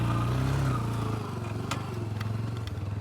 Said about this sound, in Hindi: तो गाइज़ अब करते हैं गाड़ी स्टार्ट अपनी।